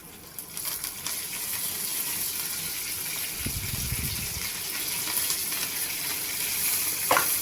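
Ginger, garlic, mint and coriander sautéing in a hot pan, a loud continuous sizzle and crackle with a burst of stirring scrapes partway through and a sharp clink near the end, no voices.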